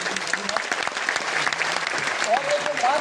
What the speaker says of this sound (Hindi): इन सभी लोगों के लिए चाहूँगा एक जोरदार ताली होनी चाहिए।